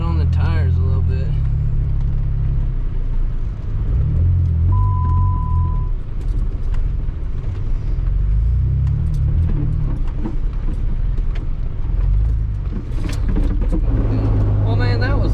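A Jeep Wrangler JKU crawls off-road in 4-wheel drive, giving a steady low engine rumble and drivetrain drone inside the cabin, with bumps and rattles over the terrain while people talk throughout.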